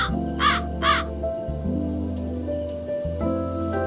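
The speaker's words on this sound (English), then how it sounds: "There's another raven. Oh, it's a crow." Two sharp crow caws from the video game Calico ring out near the start, close and clear, over a steady layered musical background.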